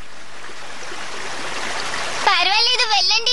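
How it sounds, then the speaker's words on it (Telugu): Ocean waves in a stone age boy cartoon rush and wash continuously, loud and close, with a voice speaking over the surf toward the end. "అలలు చాలా భయంకరంగా వస్తున్నాయి."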